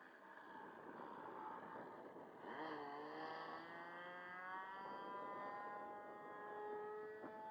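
Great Planes Trainer 60 model airplane engine buzzing steadily in cool weather, then throttling up with rising, slightly rough harmonic whine that climbs and holds at a higher pitch, continuous and fairly close.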